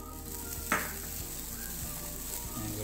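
Grated coconut roasts in a hot pan, giving a soft, continuous sizzle and crackle with one brief sharper scrape as it is stirred, fairly quiet and close, with no voices.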